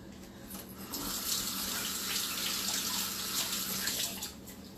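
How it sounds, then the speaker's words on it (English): Leek rinsed under a running kitchen sink tap, a steady close broadband rush of water that swells after the first second and holds for several seconds with no talking. "I'll take it to the sink and wash it under running water."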